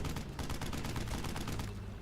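Continuous automatic gunfire from a German machine gun in Brothers in Arms: Hell's Highway, rapid even bursts of shots at a distance with a faint background rumble and no talking.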